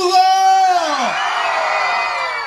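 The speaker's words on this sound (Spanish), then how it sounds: "¡Un grito para el verdugo!" Loud crowd whooping and cheering at a karaoke show during a June town fair in San Juan, Intibucá, a rising collective yell with whistles that fills the whole moment.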